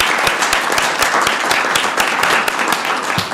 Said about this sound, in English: let's give our team a round of applause